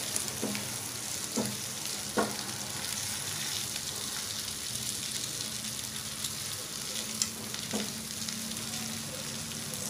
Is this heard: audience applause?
no